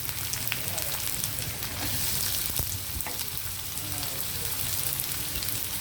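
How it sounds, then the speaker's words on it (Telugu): Onion dropped into hot oil fries with a continuous close sizzle, broken by occasional sharp spatter pops and utensil clicks, steady in level throughout. "ఆయిల్ హీట్ అయిన వెంటనే మనము ఆనియన్ వేద్దాం."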